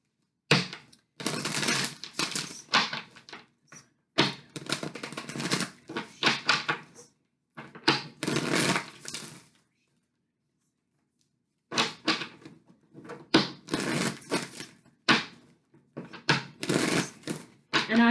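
Tarot advice cards are shuffled in quick papery bursts of riffling and flicking, close and crisp, in several clusters separated by short silences.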